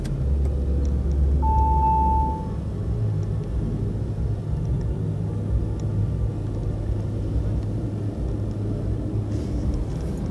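A 2018 Audi RS 3 Sportback with a 2.5 TFSI five-cylinder engine starts up and settles into a low, steady idle rumble, heard close with a short tone early on.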